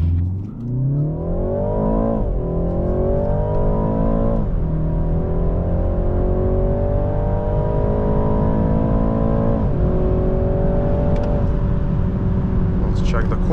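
A BMW 330i xDrive accelerates hard from standstill to 60 mph uphill, its engine climbing through rising revs with distinct gear changes, loud and close from inside the cabin, with a voice speaking briefly over it.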